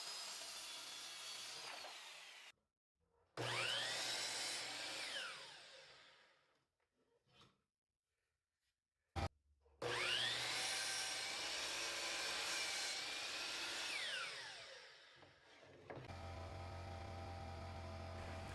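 Power saw ripping wood strips for the mobile slides of a cutting board juice groove and flattening jig, two loud sustained cuts with rising whine separated by quiet pauses and brief clunks, then a steady motor hum at the end.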